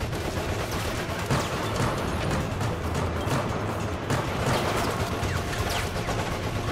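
Enemy gunfire rattles in rapid bursts during co-op play of Resident Evil Operation Raccoon City, a steady, fairly distant fusillade of shots under the game's background noise.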